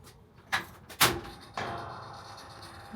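A worn, broken garage door being worked by hand gives a few sharp clunks and a slam, then a lingering rattle over a steady background hum.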